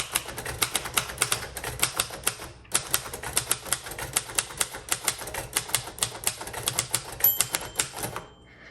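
Brisk keystrokes on a 1958 Royal Aristocrat manual typewriter snap out in a fast, even stream of close, sharp clacks with one short pause, and a brief ringing tone appears near the end.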